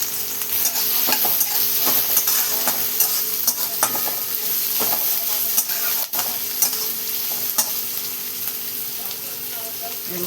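Chopped onions fry and sizzle in a pan with cumin, stirred steadily with a utensil that scrapes and clinks in a loose rhythm over a constant, close hiss.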